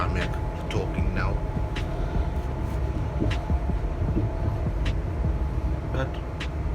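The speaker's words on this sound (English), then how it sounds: "the train is very quiet inside" Low, steady rumble and hum inside a quiet moving passenger train on a journey from Liphook to Waterloo, with faint clicks and occasional light knocks over the constant drone.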